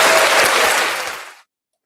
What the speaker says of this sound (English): we'll bring Steve in on a hand clap